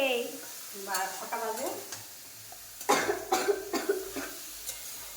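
A mother cooks in a home kitchen with faint frying and a few sharp stirring clicks against the pan, while a voice and a cough sound nearby at the start.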